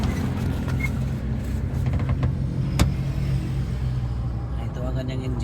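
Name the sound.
engine of a mini dump truck (DA17/DA64)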